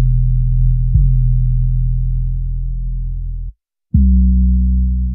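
A deep sub bass sample from GarageBand's Apple Loops plays as long sustained low tones, one note gliding into another, then a brief silence before a fresh note starts, loud and alone.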